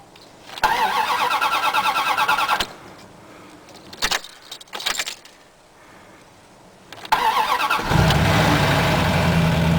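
A Dodge Dakota pickup truck engine cranks in bursts, falls quiet between tries, then catches and settles into a steady, loud idle close by.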